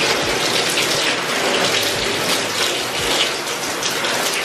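A shower runs with a dense, constant hiss of spraying water, loud and close with no pauses or voices.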